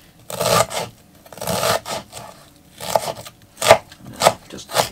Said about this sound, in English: Cut a few down that way, and then slice it through.